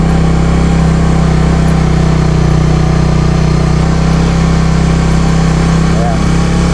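A manual motorcycle climbs a steep uphill road slowly on light throttle, its engine holding a steady, loud drone under a man's spoken instruction.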